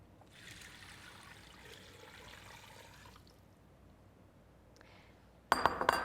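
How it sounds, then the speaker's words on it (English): Cold water trickling and pouring into a pot over chicken stock ingredients like parsley and thyme, a soft, faint stream with a light glassy clink, then a brief louder clatter near the end. "And then just simply cover it with cold water."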